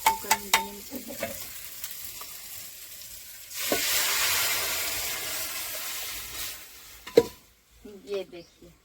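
A sizzle of dal frying in a pan with tomato and onion swells up for a few seconds between clinks of stirring and brief faint voices.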